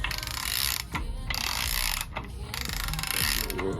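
A ratchet wrench clicks rapidly in three close, steady bursts with short pauses between strokes, tightening parts after the crank is installed during a Chevrolet SS engine rebuild.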